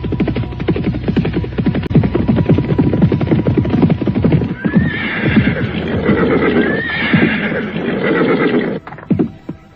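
A horse neighs loudly and shrilly twice, close by, over a steady rhythmic clip-clop of hooves, with no voices.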